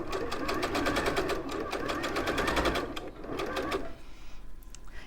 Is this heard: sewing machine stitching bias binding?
yes